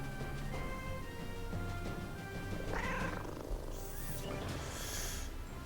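Cat creature in the video game Maliki Poison of the Past, a soft continuous purring rumble with a few faint chirps and game effects layered over it.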